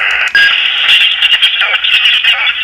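An iRadio UV88 handheld radio receiving on 7060, a harsh, buzzing band of noisy tone with fluttering breaks, loud and close.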